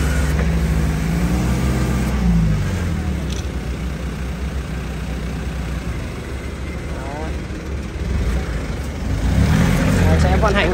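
A Japanese Komatsu FD30-7 forklift with twin tyres and manual gearbox runs while being operated, its diesel engine droning steadily and rising in pitch briefly near the start and again near the end, with someone talking over it.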